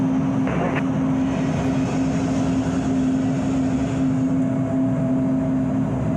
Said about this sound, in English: Just engine noises, engine background noise.